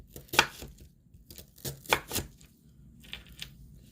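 A knife chops through an onion half on a cutting board, a handful of crisp, close strokes landing in irregular pairs and singles against a quiet kitchen background.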